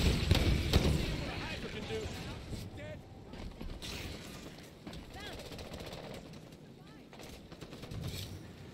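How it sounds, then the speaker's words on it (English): Rapid bursts of distant gunfire in the video game Halo 5: Guardians crackle over a busy background, with voices talking throughout. "I like hearing gunshots"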